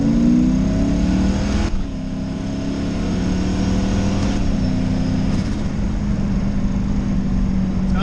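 A Mustang with a Chevrolet engine swap, running on fresh E85, accelerates under light throttle, the engine note rising, dropping briefly at a gear change near two seconds and again later, loud and steady throughout.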